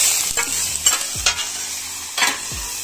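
Spatulas stir and scrape roasting vegetables across a hot metal plancha, with several sharp scraping strokes over a steady sizzle, close and clear.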